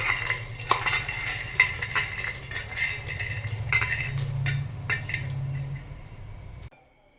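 Roasted peanuts being crushed in a bowl, a continuous run of grinding, scraping and clinking strokes at close range for several seconds, ending abruptly in near quiet.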